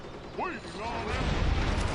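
A gun charging mechanism in the game Toy Soldiers: War Chest, a short run of ratcheting, creaking mechanical clicks and whirs that ends in a low rumble.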